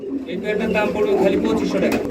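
A pair of large white pigeons coo close by in a steady, throaty, continuous murmur.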